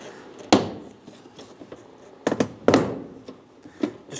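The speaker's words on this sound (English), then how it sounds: "so you should start to hear some pops." Door panel clips on a Mazda CX-9 pop loose under a panel tool, several sharp snapping pops spaced apart with faint handling noise between them.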